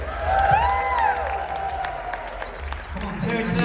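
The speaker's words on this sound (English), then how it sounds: "Give him a round of applause." An audience at an outdoor festival stage show applauds and cheers, with steady clapping and crowd noise mixed with a host speaking.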